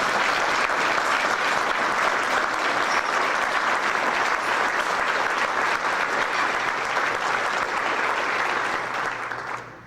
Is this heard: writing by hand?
no